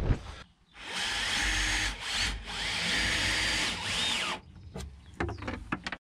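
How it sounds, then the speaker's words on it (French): A power drill drives screws into wooden reinforcements inside a chicken coop, with one long continuous whirring run of about three and a half seconds, then short knocks and handling sounds, close and loud. "Donc je vais visser des renforts, un ici"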